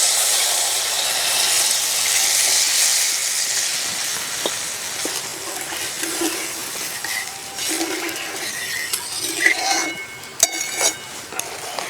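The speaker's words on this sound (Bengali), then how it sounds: "এবার দিয়ে দেবো গরম জল।" Hot water hits frying spice paste with Kashmiri chilli powder in a pan where the oil has separated, setting off a loud hissing sizzle that gradually settles, followed by scattered clinks and scrapes.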